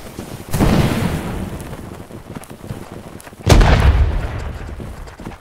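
Two loud, booming blasts a few seconds apart from a rocket firing and exploding in the musket-era battle game Holdfast: Nations At War, each with a sharp onset and rumbling decay over quieter ambient noise.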